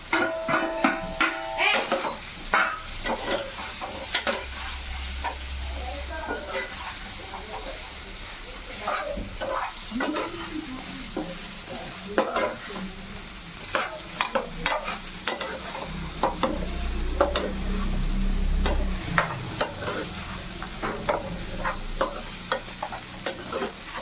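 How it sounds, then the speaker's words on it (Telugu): Cut potatoes for aloo fry being fried and stirred in a pan, a steady loud sizzle with repeated scraping stirs, close up, with a voice speaking at times. "అయినాక ఇప్పుడు ఇవి వేస్తున్నాను. నేను కోసి పెట్టుకున్న ఆలు."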